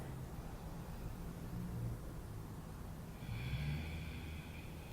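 A slow, deep breath drawn during a yoga chair pose, heard as a soft, airy, continuous rush of air close to the mic, with a faint whistling tone near the end.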